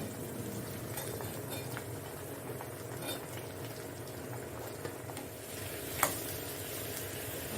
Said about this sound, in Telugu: వీటిని నూనెలో ఒక రెండు నిమిషాలు ఫ్రై చేద్దామని